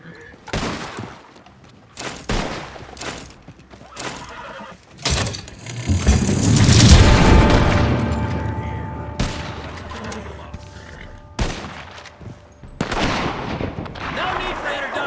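Gunfire erupts in Red Dead Online, a western game, with several sharp shots spaced across the stretch and a dense burst of blasts near the middle, alongside horse neighs and hoofbeats.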